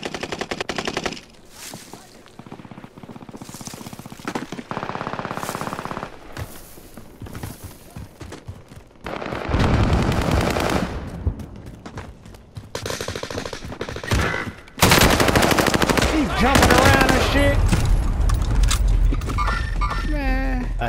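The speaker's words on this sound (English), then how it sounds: "Taking fire." Loud bursts of automatic gunfire in Call of Duty: Modern Warfare multiplayer, rapid rattling volleys and single shots coming in waves, with footsteps in between and in-game voices and player talk over the top.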